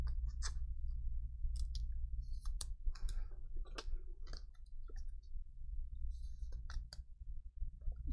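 A Darius Garland relic trading card slides into a plastic sleeve, making a quiet series of crisp clicks and crinkly rustles over a low steady room hum.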